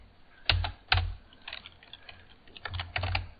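Typing on a computer keyboard, a few sharp key clacks followed by quieter irregular taps and a short closing flurry, close and clear with no talk.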